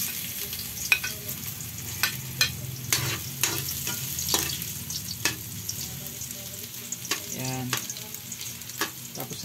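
Ginger and onion sauté in hot oil in a wok, a soft continuous sizzle broken by repeated scraping stirs and clatters of the spatula, for a Filipino stingray dish with coconut milk.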